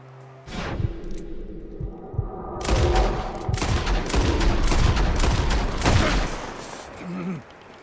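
Rapid bursts of gunfire in the video game Red Dead Redemption 2: a few scattered shots, then a loud, sustained volley of repeated cracks for several seconds before it stops abruptly.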